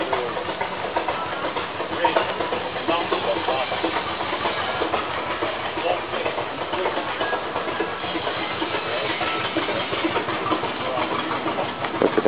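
Old steam tractor engine running at a tractor and steam engine show in Alpena, Michigan, giving a steady mechanical chugging with hiss, loud and close for the whole stretch, with crowd chatter and voices underneath.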